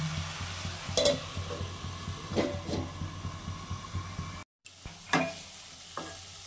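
Radish and shrimp with chilli fry in a covered pan, giving a steady, close sizzle broken by several sharp stirring clatters and a brief silent gap.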